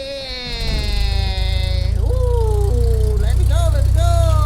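A toy LEGO Duplo airplane starts up with a loud electronic engine sound that revs into a warbling, rising and falling drone, held steady and close throughout.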